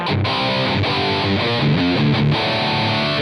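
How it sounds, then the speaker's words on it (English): A high-gain metal distortion pedal modelled on a Metal Zone in AmpliTube 5 drives a loud, saturated electric guitar through a short run of heavy chords and palm-muted notes, played alone without speech. "Let's go to metal distortion"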